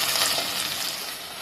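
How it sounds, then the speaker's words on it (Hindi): Carrots and peas cooking together in a pan on medium flame for veg pulao, a soft, steady sizzle that is close and continuous over a brief moment. "गाजर और मटर दोनों को हम साथ में कुक कर लेंगे"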